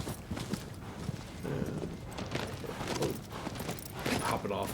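Horse hooves clip-clop in the video game Shadow of the Colossus, a steady rhythmic gallop under continuous in-game sound, with a person talking over it.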